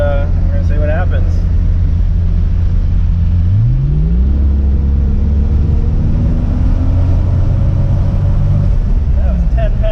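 A Toyota Supra engine with its boost controller set low revs up hard, the loud, deep roar climbing sharply in pitch partway through and holding high, while people talk over it.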